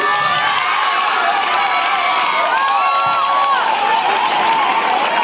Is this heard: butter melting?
no